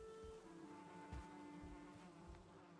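Insect-like buzzing of bees inside a foggy building in the survival game Cozyheim, a steady low drone with a faint flutter, heard over a continuous game ambience and tonal hum without any talk.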